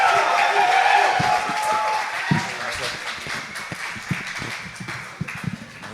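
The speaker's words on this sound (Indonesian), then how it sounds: "Mari kita berikan tepuk tangan untuk Pastor Dan Stefan." Church rally audience applauding Pastor Dan Stephan in Indonesia, steady crowd clapping that thins out into scattered claps toward the end, with a voice speaking over it.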